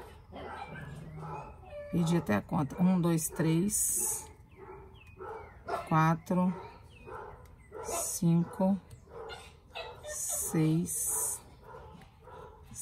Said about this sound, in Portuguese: Meus cachorros latindo pro pessoal lá na rua